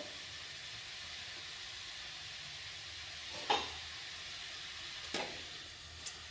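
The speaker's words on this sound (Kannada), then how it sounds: "ಇಲ್ಲಿ ಎಣ್ಣೆ ಕಾಯ್ದಿದೆ ಫ್ರೆಂಡ್ಸ್ ಚಕ್ಲಿ ಬಿಡೋಣ" Chakli dough made from rice and wheat flour fries in hot oil with a soft, steady sizzle. A few brief bubbling bursts and clinks rise over it.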